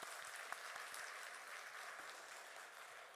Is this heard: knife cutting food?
no